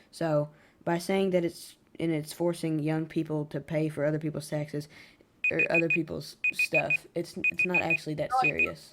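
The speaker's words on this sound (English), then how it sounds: "And sorry for that beeping." Repeated short electronic alarm beeps come in regular bursts in the second half, sounding under continuous conversational talk between podcast speakers.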